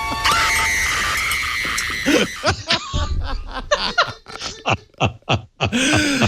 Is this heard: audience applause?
no